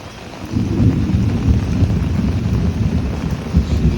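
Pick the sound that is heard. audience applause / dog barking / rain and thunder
rain and thunder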